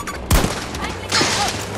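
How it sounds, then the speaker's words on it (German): A burst of Battlefield 2042 gunfire cracks loudly, followed by a second volley and a brief electronic tone. "Feindlicher Schuss, 50 Meter von meiner Position."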